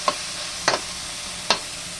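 Tomatoes frying in oil with a low, steady sizzle, broken by three sharp utensil knocks against the pan spaced unevenly apart.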